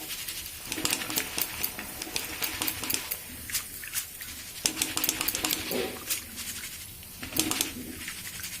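Flattened rice (chira) fries in a sieve shaken inside a wok, giving bursts of crisp rattling sizzle in repeated rhythmic pulses, close and moderately loud.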